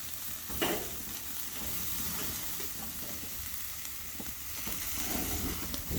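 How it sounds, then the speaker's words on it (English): Steaks searing on a charcoal grill out on a farm deck, a steady broadband sizzle and hiss running the whole time at moderate level, with a few faint clicks and shifts as the meat sits over the heat. "all I'm trying to do is get a good sear on each side"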